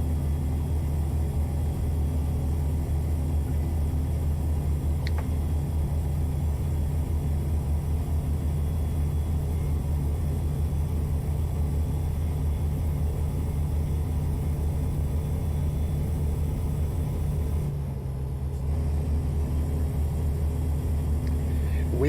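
A customized Peterbilt 389 truck in American Truck Simulator drones with a deep, steady engine rumble while cruising, a constant low hum that briefly dips near the end.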